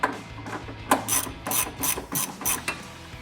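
A ratchet works loose a rear shock bolt on a Ford Mustang, giving close, rhythmic bursts of clicking pawl sounds repeated about every half second, with no talking.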